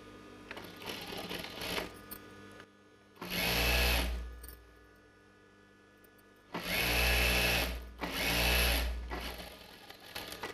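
A sewing machine stitches the curved side and band pieces of Patiala pants in three loud whirring bursts, with quieter pauses of handling in between.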